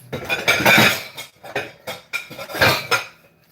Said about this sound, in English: I'm gonna have to use all these big bowls here